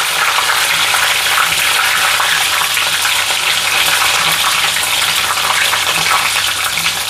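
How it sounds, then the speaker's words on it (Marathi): Curry leaves and a little grated potato frying crisp in hot oil for a sabudana makhana chivda make a loud, steady sizzle with bright, crackling spatter, continuous and close. "आता हा कढीपत्ता चांगला क्रिस्पी तळून घेऊ."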